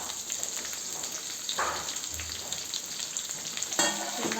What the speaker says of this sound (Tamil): பச்சை மிளகாய் போட்டு வதக்கிக்கலாம்.